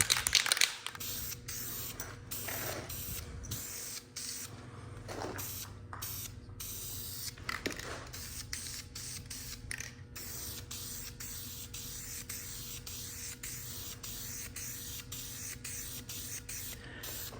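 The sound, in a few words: spray painting a cleaned transmission pan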